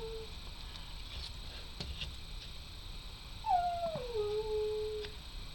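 A low-energy puppy gives a faint, drawn-out whimpering howl that slides downward, heard softly indoors over a quiet background with a few light clicks.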